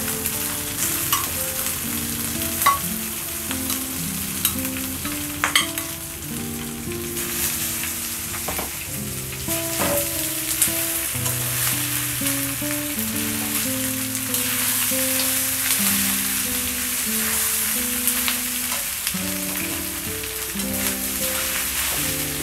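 Beef for jhura bhuna fries with browned onions in a pan, a constant close sizzle with stirring scrapes throughout and faint background music, no talking.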